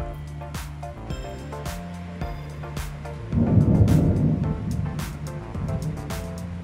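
Thunder from a July thunderstorm rolls in as a deep, loud rumble that swells about halfway through and fades slowly, over a steady background hum with scattered ticks.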